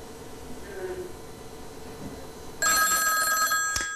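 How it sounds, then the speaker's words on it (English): Telephone ringing on a live radio quiz call-in show: after a couple of seconds of low room noise and faint voice, a bright electronic ring bursts in loudly and holds for over a second. "The phone has got to ring."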